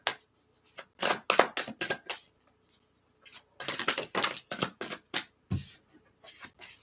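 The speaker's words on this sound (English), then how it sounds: "Give it a couple shuffles." A deck of tarot cards is shuffled by hand in a run of crisp, riffling bursts with short pauses between them, close and clear with no talking.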